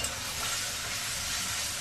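Poppy seed paste fries in a pan with a steady, even sizzle, a soft continuous hiss without pauses, close and fairly quiet, with no talking.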